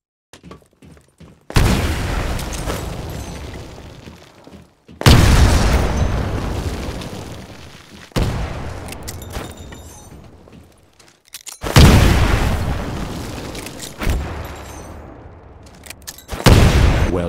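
Grenades thrown through windows in the Titanfall training course go off one after another, four or five heavy booming blasts, each with a long rumbling decay, separated by short quiet gaps and faint clicks.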